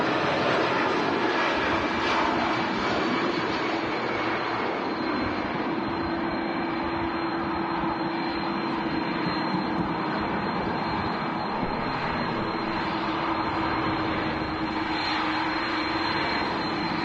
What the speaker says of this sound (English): Taxiing out on the main cam, Aer Lingus A330